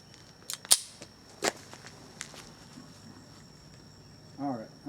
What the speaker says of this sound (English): I'm going to shoot the ones at 25 first and see how well these mini mags will do in this Ruger.